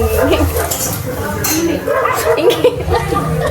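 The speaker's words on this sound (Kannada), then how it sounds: "ನೆಕ್ಸ್ಟ್ ಕಲ್ಲುಪ್ಪು ಹಾಕ್ತಿದ್ದೀನಿ" Rock salt being added to a bowl of spiced mixture and stirred by hand in a home kitchen, with close clinking and rubbing sounds running continuously under background chatter.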